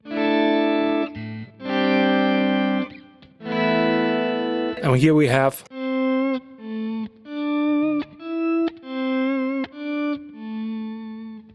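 Electric guitar through a Kemper Profiler auto swell effect, with a series of notes and chords fading in softly one after another, each swelling up from silence. Someone speaks briefly partway through.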